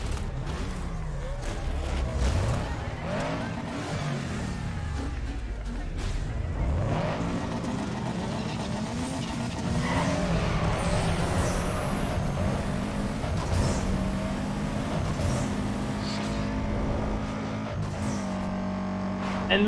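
A tuned Subaru Impreza WRX STi with a 2.5L flat-four races in Need for Speed Underground, its engine droning and revving steadily through gear changes for about twenty seconds, with other cars and game effects mixed in.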